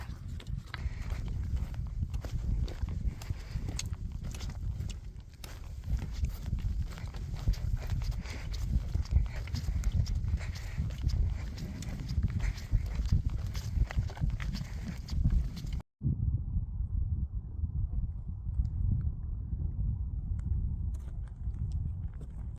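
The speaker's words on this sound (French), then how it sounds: "Eh ben, les moutons." A flock of sheep walks by, a soft, continuous patter of many hooves mixed with light rustling, faint and fairly close, with a brief dropout near the end.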